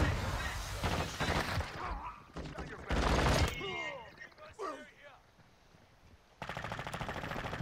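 Bursts of automatic gunfire from Call of Duty Modern Warfare 2 multiplayer come in loud dense clusters, broken by quieter gaps, with players talking over the action.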